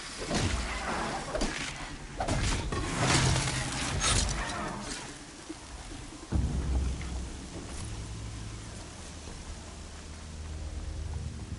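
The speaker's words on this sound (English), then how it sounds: "raining like it's trying to wash everything away" Heavy rain and rolling thunder inside the video game Horizon Zero Dawn, with loud thunder cracks early and a steady downpour continuing after.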